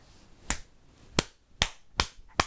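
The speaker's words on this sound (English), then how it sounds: "Clap for me, one big clap." Five sharp hand claps, each one a crisp, isolated crack spaced roughly half a second apart, close and fairly loud against a quiet room with no talking.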